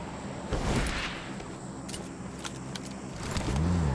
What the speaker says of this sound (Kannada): ಇಲ್ಲಿಂದ ಗಾಡಿ ಎತ್ಕೊಂಡು ಬೇರೆ ಕಡೆ ಹೋಗ್ಬಿಡ್ತೀನಿ